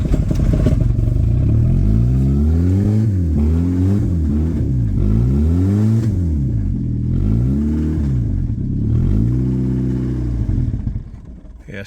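A Suzuki car engine that won't idle starts and is revved hard and repeatedly, loud and close, its pitch swooping up and down in rough surges before it cuts out at the end.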